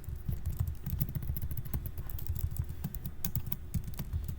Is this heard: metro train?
no